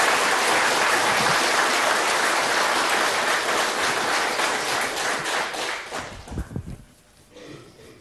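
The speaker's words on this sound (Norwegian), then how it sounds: "kommer og fortjener vel en applaus nå" Studio audience applause on a Norwegian radio quiz show greets a judge, a dense sustained ovation that thins and fades out over the final seconds, leaving a few scattered claps and faint shuffling.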